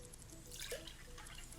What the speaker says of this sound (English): I'm pouring myself some electrolytes, beverage, with some fizzy water.